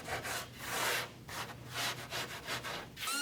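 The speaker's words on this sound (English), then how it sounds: "I rubbed a little sawdust to hide this god-awful joint" Sawdust being rubbed by hand into a glued walnut desk joint: steady, close rasping and rubbing strokes in short repeated bursts, fairly loud, with no talk.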